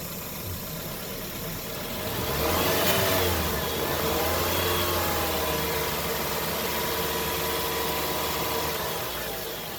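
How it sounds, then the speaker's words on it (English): A car engine rises from idle to a sustained higher rev and holds steady during a battery charging test, a continuous mid-pitched hum close by with no talking. "It tells me to increase the revs of the car. Okay, we'll do that now."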